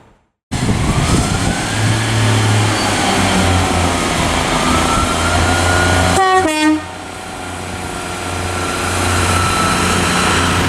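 A Pacer train passing through Liverpool South Parkway on the West Coast Main Line, a loud steady rail rumble broken midway by a short, sharp horn blast, after which the noise drops lower and slowly builds again.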